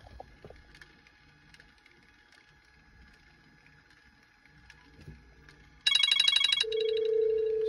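Phone call ringing through a digitNOW Bluetooth cassette adapter, a loud steady electronic ring tone that starts abruptly near the end after quiet background hum, then shifts to a single sustained tone.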